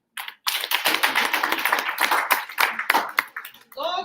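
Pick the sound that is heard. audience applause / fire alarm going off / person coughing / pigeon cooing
audience applause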